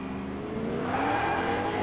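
A car engine drones and revs steadily in Fortnite, close and continuous with a slight rise in pitch as it accelerates.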